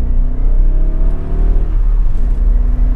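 A C4 Corvette's engine pulls hard under acceleration, a loud, close, steady roar whose pitch climbs as the car gathers speed, heard from inside the cabin with no talking.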